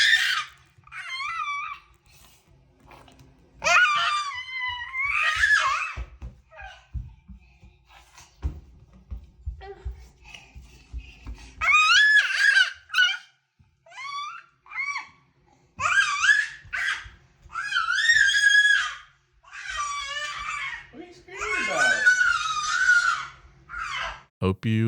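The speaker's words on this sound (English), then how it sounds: "Here's some baby screaming." A played recording of a baby in a kitchen, with bursts of high screeching, squealing and giggly babbling coming in repeated loud outbursts separated by short quiet gaps, close up and alone.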